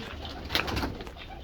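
A pigeon gives a short, soft coo close by, a single brief low call with faint background noise.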